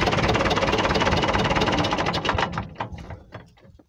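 A 1964 International B414 positive-earth tractor engine ticks over with a steady, dense mechanical chatter that begins to falter and thin toward the end, becoming irregular pulses as it dies down.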